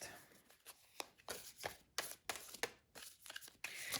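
Tarot cards being shuffled, giving a run of quick papery riffles and slaps in irregular bursts across a few seconds, fairly close and alone with no talk.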